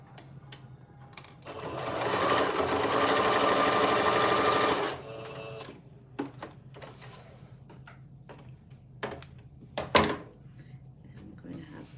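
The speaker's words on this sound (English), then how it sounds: "So right now I'm sewing on the nose piece." Sewing machine stitching a nose piece onto a memory bear made from baby clothes, a steady whirring run of about three seconds, followed by clicks and handling noises as someone speaks.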